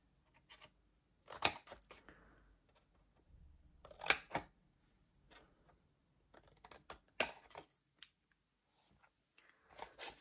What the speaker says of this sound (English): I also need to cut a few triangles out here.